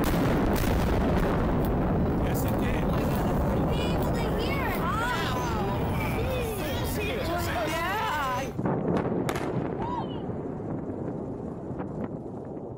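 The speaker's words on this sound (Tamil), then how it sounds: "பயன்பாடற்று கிடந்த பழைய பாலம் வெடிவைத்து தகர்த்தப்பட்டது" An old, unused bridge is blown apart with explosives, heard as a loud, sustained rumbling blast outdoors with wind buffeting the microphone; a sharp cut leaves quieter crackling debris and faint voices afterward.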